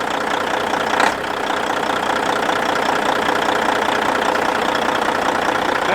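Caterpillar C15 diesel engine with a newly replaced turbo idling steadily, a loud continuous rumble with an even rhythmic knock and one brief louder swell near the start.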